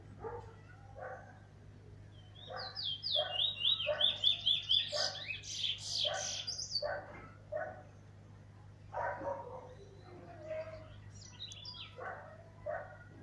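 A brown bird sings close by in a series of chirps with a quick, high trill partway through. A steady low hum runs underneath.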